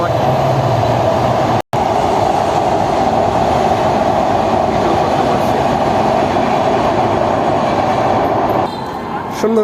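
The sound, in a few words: train passing near the Padma Bridge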